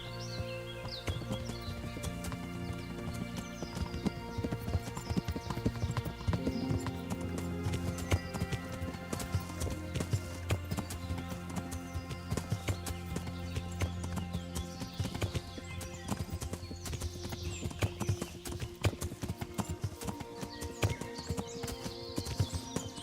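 Horse galloping in Kingdom Come: Deliverance, a steady stream of hoofbeats close by under a dense musical score, with occasional faint birdsong and a brief whinny.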